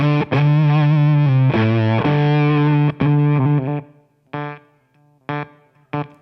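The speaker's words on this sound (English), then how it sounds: "First thing you get is a very gated kind of fuzz. Right, that zippery gated kind of thing." A JDM Pedals Humdinger octave fuzz, a modded Foxx Tone Machine, on electric guitar makes loud, buzzy, zippery notes that cut off abruptly under heavy gating, with sustained chords at first and then choppy, sputtering short stabs.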